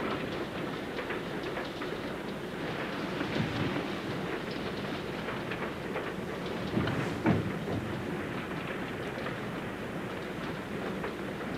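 A train rumbles steadily along the rails with a continuous rushing roar and faint rhythmic clatter, heard from inside the carriage.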